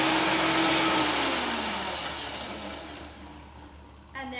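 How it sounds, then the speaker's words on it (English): Kitchen blender whizzing basil balsamic vinaigrette ingredients for a caprese salad, a loud whirring roar that gradually winds down and fades, then a brief bump of noise at the end. "let's get the lid on the blender and just whiz those ingredients up"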